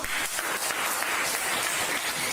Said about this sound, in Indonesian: Oke, aplaus dulu semua.